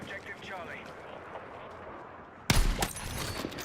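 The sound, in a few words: gunfire in a video game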